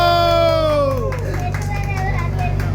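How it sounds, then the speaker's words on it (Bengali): Children and an audience at a stage event clapping and cheering as young singers are introduced, a crowd roar over a sustained musical tone that fades. "সবাই হাততালি দাও"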